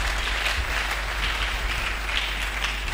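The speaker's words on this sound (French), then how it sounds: "Acclamons très fort." A church congregation applauds loudly and continuously, a steady wash of clapping filling the room with no pauses.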